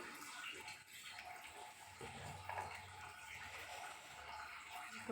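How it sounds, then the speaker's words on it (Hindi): Clothes being washed by hand in water: a faint, steady slosh and splash of wet fabric and water that runs without a break. "अब मैं धो रही हूँ कपड़े"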